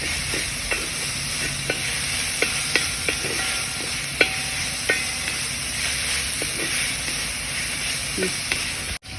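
Onions sautéing in a pan for a restaurant-style chicken roast, with a steady sizzle and periodic soft scrapes of a spatula stirring. The sound is close and alone, with no voices.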